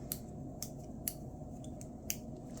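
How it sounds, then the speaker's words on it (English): Scissors snip off a cotton thread tail on a piece of tatting lace, giving a few faint, crisp clicks spaced unevenly apart in a quiet room. "So I can take my scissors, make sure my other threads are totally out of the way, and trim off that tail"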